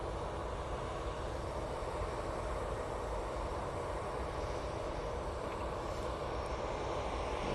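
An airliner departs Manchester Airport with a dense, sustained engine roar, steady and fairly loud throughout, with no voices over it.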